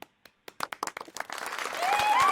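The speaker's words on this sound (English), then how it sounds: "Can I get some claps if you can see my screen?" An audience at the Reebok Creator Summit claps, starting with a few scattered hand claps that quickly build into steady, growing applause, with a few faint whoops near the end.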